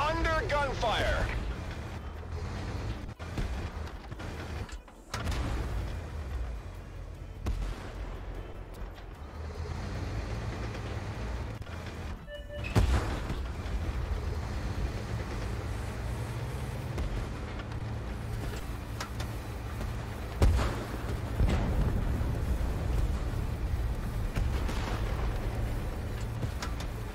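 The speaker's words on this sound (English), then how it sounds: "We are under gunfire." Tank video game battle with heavy booming artillery and gunfire, several sharp blasts standing out over a constant low engine rumble, fairly loud and mixed with a player speaking.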